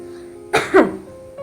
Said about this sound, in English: Cover your mouth and nose with a tissue when you cough or sneeze.